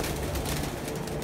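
Pigeons cooing from a rooftop coop in Kharian, Pakistan, during a pigeon-flying event: soft, steady low cooing under a continuous noisy background, with no talk.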